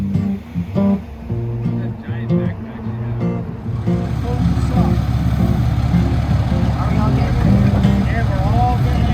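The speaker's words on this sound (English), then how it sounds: "All of us in a truck." A truck engine drones steadily during a ride carrying a group of people, a loud continuous rumble that follows brief talk at the start and then runs on alone.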